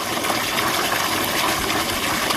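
Water rushes from a 1 HP tullu pump into a bucket, a dense, continuous splashing gush heard up close and fairly loud, with no pauses.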